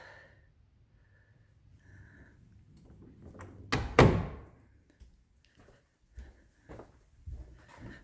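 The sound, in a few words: stage prop door being opened and closed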